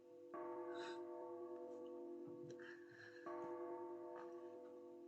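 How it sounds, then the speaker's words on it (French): Bells ring in two separate strikes in the video game Persona Q, each leaving a long humming resonance that fades, with faint ticking and rustling between. "Le son des cloches est encore plus clair à présent."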